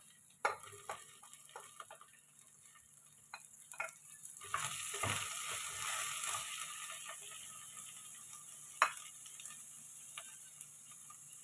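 Potatoes and cauliflower go into a pan for a Kerala vegetable kurma, giving a faint sizzle that swells midway, with a few scattered clicks and taps of pieces and a utensil, quiet and without talk.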